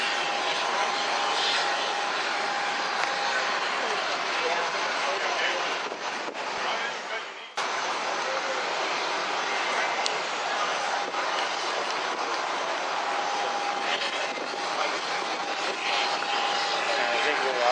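Piston engines of a B-17 bomber roar during takeoff, producing a loud, steady, broadband drone that barely dips once partway through and continues without a break for the whole stretch.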